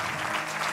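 Church congregation applauding briefly, a steady dense wash of clapping that stays at an even level for under a second with no voices on top.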